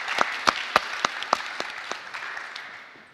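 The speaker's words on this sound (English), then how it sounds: "So please give Salem a big round of applause." An audience at a panel event applauds with a scattered run of distinct, sharp claps that thin out and fade away over about three seconds.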